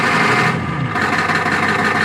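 A diesel International IDI engine runs at a steady idle close by, giving a continuous, even rumble with no voices over it.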